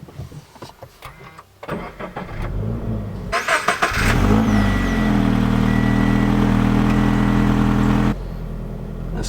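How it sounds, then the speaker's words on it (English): A 2017 Subaru BRZ starts up nearby: the starter cranks briefly, then the engine catches with a loud rev and settles into a steady, strong idle, with faint talking and interior clicks beforehand. "let's start up the car and see how it drives"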